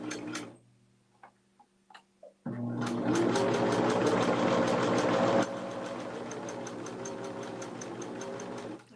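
A home sewing machine starts after a few soft clicks and knocks, then runs in a fast steady whir with a rhythmic mechanical ticking, close by and fairly quiet, easing slightly in pitch partway through.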